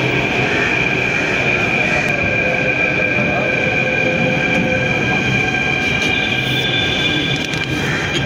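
A crowded Delhi metro train rides toward Nehru Place, filling the carriage with a steady, loud rumble and rail roar, with high whining tones and brief wheel squeals over it, continuous for the whole stretch.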